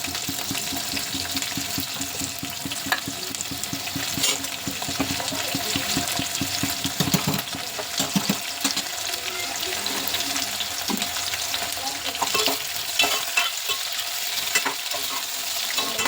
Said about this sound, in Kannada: ಇಷ್ಟು ಫ್ರೈ ಆಗಿದೆ.